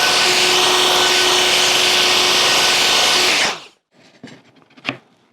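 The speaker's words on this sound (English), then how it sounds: "I'm going to route again." A handheld router cutting into a Stratocaster-style guitar body, a loud close high-pitched whine that runs steadily for about three seconds, then stops abruptly, leaving a few faint handling knocks.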